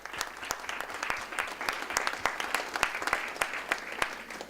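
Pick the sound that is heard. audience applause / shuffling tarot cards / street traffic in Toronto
audience applause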